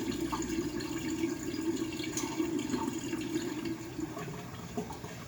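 Water running from a tap into a kitchen sink while preparing for salsa canning, a steady close rush and splash filling the basin throughout, with no voices.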